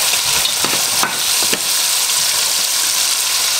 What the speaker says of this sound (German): Ich habe jetzt das Gemüse mit dem Fleisch ein bisschen angebraten, also circa 3-4 Minuten.